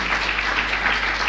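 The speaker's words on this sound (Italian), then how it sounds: "Giulia, a cui vorrei che voi tributaste un applauso" An audience applauds in a steady, even wash of clapping, moderately loud, with a low constant hum beneath it.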